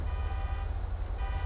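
Car horns in GTA 5 honk steadily over a constant low engine and traffic rumble, a sustained tooting at close range throughout with no break.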